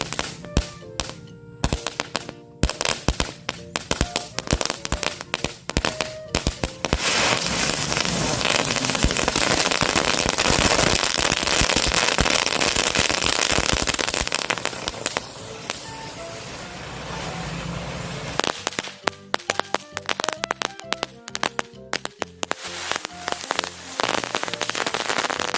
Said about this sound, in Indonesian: yang pertama kita nyalakan perpaduan berbagai jenis petasan